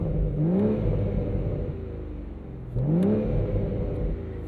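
BMW Z4 roadster with a B58 inline-six, 2025 six-speed manual, revved twice in quick succession, each blip rising sharply then falling back to a steady idle; loud, close and smooth-toned with no talking.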